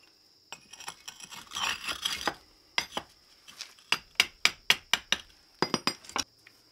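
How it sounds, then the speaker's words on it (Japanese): Thin bricks are set into the joints while a climbing kiln is stacked, giving a run of sharp ceramic clinks and scrapes, a dense scraping burst followed by separate crisp knocks in an irregular rhythm, close by with no talk. "薄いレンガで継ぎ目を埋めています。"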